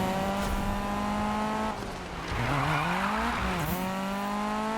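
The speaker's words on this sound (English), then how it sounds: "Look at that thing accelerate." A Volvo 242 in Need For Speed 2015 accelerates hard, its engine note climbing through gear changes with whining pitch sweeps and a brief dip between shifts, loud and close with no talk.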